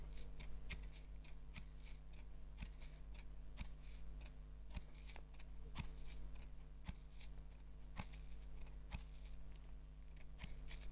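Scissors snip repeatedly through wound yarn to free a pom pom, a run of sharp, close clicks spaced about half a second to a second apart, with no talking.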